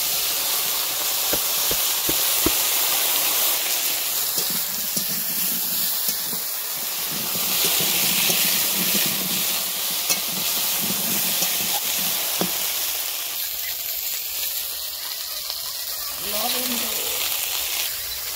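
Potatoes frying with chili and garlic in hot oil, a loud, continuous sizzling hiss filling the scene, with a voice talking faintly beneath it.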